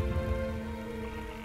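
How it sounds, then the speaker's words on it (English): Rain falls in the video game Shadow of the Colossus, a steady soft patter under low tonal in-game ambience, fairly quiet and continuous for a brief moment. "There's rain."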